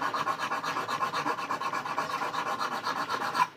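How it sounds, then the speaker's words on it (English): Rhythmic rasping strokes of sanding along the edge of a handmade knife blade, close and steady with a quick even back-and-forth pace, no talking. "continue to sand on this edge, getting as close as I can get to it"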